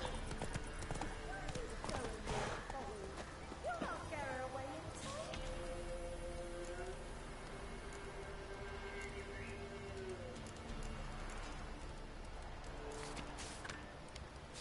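Horse hooves gallop in a fast, steady clip-clop in The Witcher 3 video game, with game voices, wind and ambience layered over the continuous rhythm.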